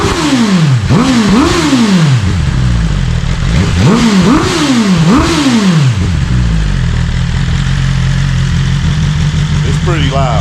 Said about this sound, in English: Already had it running, so it's got a deeper growl to it with the valve just open.